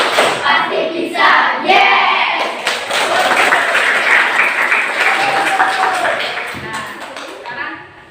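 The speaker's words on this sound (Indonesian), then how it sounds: "Silakan tepuk IPA." A school class in a teaching-practice lesson performs the 'tepuk IPA' clapping chant, a sustained burst of many hands clapping close by for several seconds, with voices mixed in and the clapping tapering off near the end.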